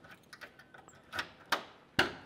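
Keys for a 1967 Chevrolet Chevelle SS tried in the deck lid lock: a handful of small metallic clicks and taps, getting louder toward two sharp final snaps, close by with no talking.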